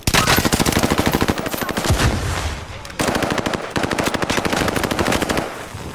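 Rapid automatic gunfire in Call of Duty: Modern Warfare Warzone, loud and close, in long sustained bursts with a short break partway through.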